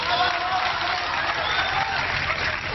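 An audience applauds after a poem recital with steady, dense clapping that holds at an even level throughout, some voices faintly mixed underneath.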